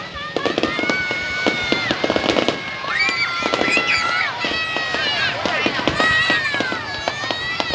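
A dense volley of New Year fireworks bursts and crackles continuously during a Tet celebration at a national tourist area in Vietnam, with rapid pops and whistling rockets nearby and people talking and calling out over the display.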